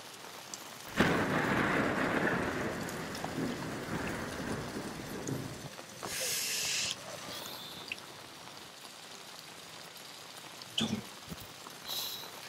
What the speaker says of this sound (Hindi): बाहर इतनी बारिश हो रही है ना